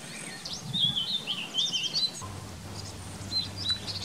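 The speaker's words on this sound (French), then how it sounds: "On peut entendre le pinson, la mésange bleue, on peut voir une maison charbonnière dans les parages." Small songbirds such as chaffinch, blue tit and linnet sing outdoors, with bright chirps and short warbled phrases fairly near over a low steady background hum, no talking.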